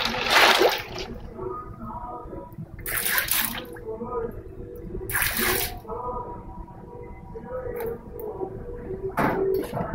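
Water is poured into a hookah base in bursts, several loud splashing pours separated by gaps, with someone talking between and over them.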